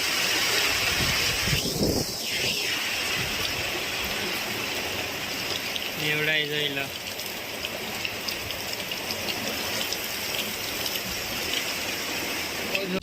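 Continuous hiss of rain falling steadily on a farm, with a short spoken phrase near the start and a brief tonal sound midway.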